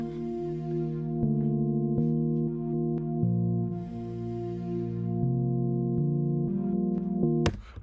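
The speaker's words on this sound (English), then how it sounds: "the sound we built in Serum sounds like this" Synth patch built in Serum plays a slow chord progression of sustained, harmonically rich tones that change every second or so, ending in a sharp bright snap, alone and fairly loud.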